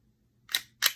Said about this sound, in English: rack the slide